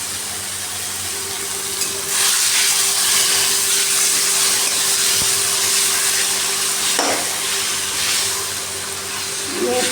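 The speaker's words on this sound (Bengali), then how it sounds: "এই চিকেনটাই আমি এখন এই কড়াইয়ের মধ্যে দিয়ে দেবো" Marinated chicken pieces for biryani fry in a hot kadai, giving a continuous loud sizzle and hiss with occasional stirring scrapes and clinks throughout.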